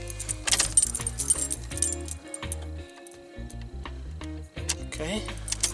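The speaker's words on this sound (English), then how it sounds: "Key in the ignition." A bunch of keys jingles and clicks into the ignition of a 1984 Pontiac Fiero, with light metallic taps and rattles close by in a quiet car interior.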